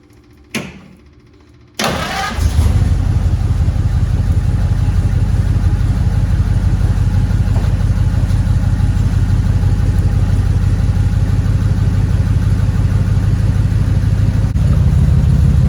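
A 1940 Ford car engine is cranked and catches after a couple of brief starter bursts, then settles into a loud, steady, close idle-like running that keeps going in gear without interruption.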